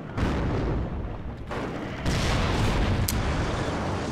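A Tunguska anti-aircraft vehicle blows up in the WARNO strategy game, a dense, sustained roar of explosion and battle noise with several heavier booms and a sharp crack near the end, loud and continuous throughout.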